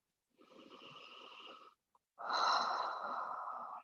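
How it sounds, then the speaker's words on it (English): Slow, deep breathing during a gentle yoga session on a mat, one long audible inhale followed by a louder, fuller breath, close and alone with no talk. "take big, intentional breaths here"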